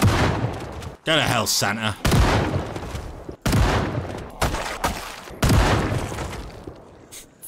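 Shotgun blasts tear into a zombie horde in a survival game, several loud booming shots spaced through the stretch with a clattering reload burst, while someone talks over the fire.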